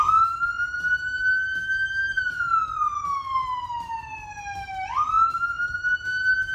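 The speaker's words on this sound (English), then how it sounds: "it's called the Whale, and it's a very long, drawn-out siren" A police siren in the Wail tone sounds loud and close, one long drawn-out tone gliding slowly up, holding, sweeping down, then rising again, alone over a faint low rumble.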